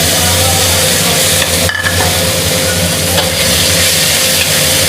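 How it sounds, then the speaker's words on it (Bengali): Chopped onion hits very hot oil tempered with cumin seeds and fries with a loud, dense, continuous sizzle up close, with occasional stirring scrapes and no talk. "পেঁয়াজ কুচিটা অ্যাড করছি।"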